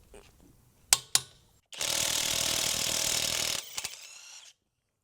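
SEESII WH760 cordless impact wrench on power level 2 removing a lug nut: a couple of sharp clicks, then a loud sustained hammering burst of about two seconds, followed by brief rattles.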